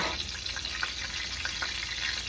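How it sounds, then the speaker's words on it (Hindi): Curry leaves and whole cumin fry in hot oil for Hyderabadi bagare baingan, a steady close sizzle with small crackling pops scattered through it. "थोड़ा कड़ी पत्ता डालेंगे"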